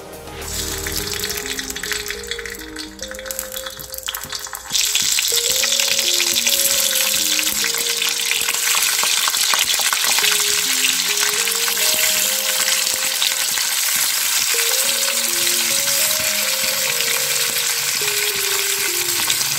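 Green chillies fry in oil on a hot tawa with a loud, steady sizzle and crackle, rising sharply after the first few seconds and continuing unbroken, with faint stirring and soft tonal sounds underneath.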